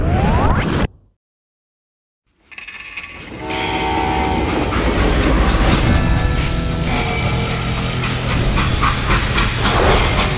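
A freight train rolls steadily on its rails in the Call of Juarez video game, a dense, continuous rumble with clattering metal after a brief silent gap near the start, loud and close throughout.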